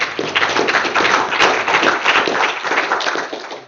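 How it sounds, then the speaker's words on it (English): An audience at a tech talk claps a round of applause, dense steady hand clapping from many people in a room, fairly loud and continuous before tapering at the end. "please give Sebastian another round of applause."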